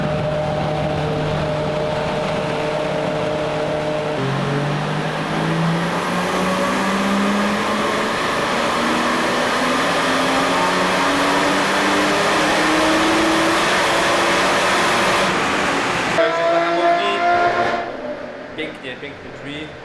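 A BMW engine pulls on a dynamometer, its pitch climbing steadily through a long, loud, sustained rev run before cutting off abruptly near the end.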